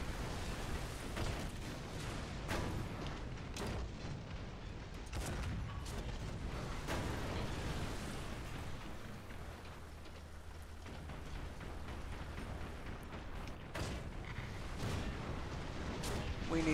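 Enemy tank fire and shelling in War Thunder around an IS-1 tank: a continuous low rumbling battle bed broken by scattered heavy booms and distant impacts, with a voice talking at times.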